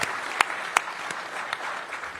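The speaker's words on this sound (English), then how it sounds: "Give those ladies a big round of applause." A small gathering at a downtown press conference offers a few scattered claps for the Gallery Place Chinatown co-chairs, faint and sparse, with distinct individual hand claps rather than a full ovation.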